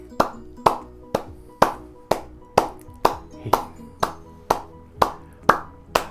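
Steady hand clapping in a quick, even eighth-note rhythm, roughly a dozen sharp claps about half a second apart, close and uniform in loudness, with no talking, in a PreK to second grade music lesson.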